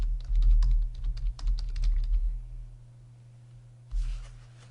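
Rapid clicking keystrokes on a computer keyboard while entering text into a Google Sheets cell, close and clear, a quick burst for about two seconds that thins out, then stops before a brief soft rustle.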